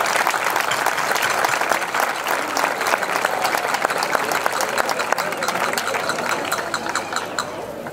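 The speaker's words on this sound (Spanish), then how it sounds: "Un fuerte aplauso para ellos." A large outdoor audience at a folk night in Villarrubia de los Ojos applauds a choir and dance group from La Coruña, giving loud, dense, sustained clapping with crisp individual claps throughout.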